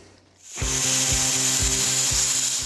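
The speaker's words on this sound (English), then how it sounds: "cleaning up the edge with a grinder" An angle grinder cleans up the edge of a 3/16 inch steel plate, a steady loud whine with rhythmic chattering pulses as the disc bites the metal, close up, with no voices.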